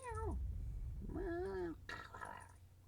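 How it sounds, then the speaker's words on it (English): A house cat meows loudly and close by, two drawn-out rising-and-falling calls with a short gap between them, then a softer breathy trailing sound under a low background hum. "Sorry, I'm messing with a cat."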